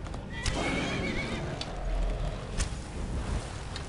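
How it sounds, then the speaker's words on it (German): A horse in the video game Skyrim Special Edition whinnies loudly, alongside hoof clip-clops and game ambience, with no talk over it. "Mein Pferd, geh weg!"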